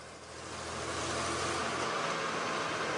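A Delaunay Belleville, a pre-World War I French vintage car, drives with a steady, smooth, low engine hum and broad road rumble that swells slightly at the start and then holds even, with no voices.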